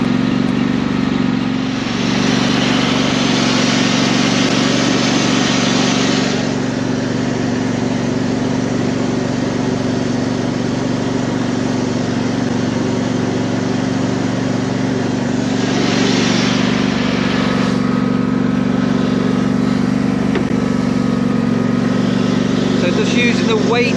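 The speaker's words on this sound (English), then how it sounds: "I'm just using the weight of the mower now just to help compress some of this soil down, flatten it a bit" A ride-on lawn mower is driven slowly back and forth over freshly laid soil to compress and flatten it, its engine droning steadily at a medium pitch, close and continuous, with occasional louder passes.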